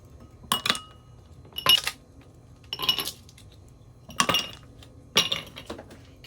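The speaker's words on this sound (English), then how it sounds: "Gonna put 2 ice cubes." Two ice cubes dropped into a glass while making dalgona coffee, heard as a series of sharp, bright clinks in five separate bursts, close and fairly loud with quiet gaps between.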